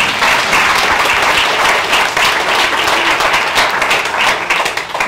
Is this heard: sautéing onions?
no